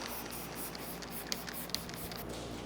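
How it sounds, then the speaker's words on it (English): Soft hissy spray bursts of cleaner onto a matte, ceramic-coated car, repeating rhythmically, close and fairly quiet, with a couple of small clicks from the trigger. "Go ahead, spray it down."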